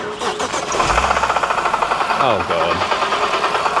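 A BMW E92 325i with a badly knocking engine cranks and fires up, then settles into a rough, pulsing idle with a rhythmic tapping beat, as a man briefly exclaims nearby.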